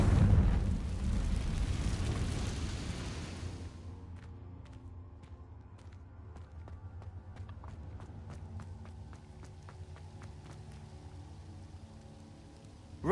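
In Hogwarts Legacy, a Confringo fire spell bursts as a loud rushing blast that fades after about four seconds, followed by scattered crackling pops and ticks.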